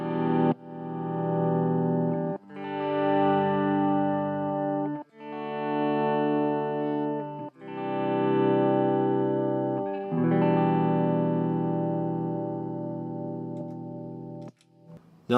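Electric guitar through a stock Line 6 M5 effects unit, playing sustained distorted chords with chorus shimmer, several phrases separated by brief gaps, the last ringing out and slowly decaying.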